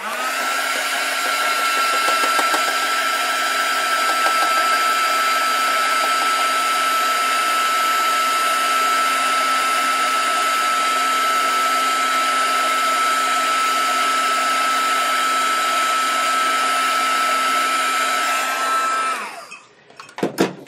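A blow dryer whirs steadily and loudly for nearly twenty seconds while drying watercolor paint, then switches off and winds down with a few small clicks at the end.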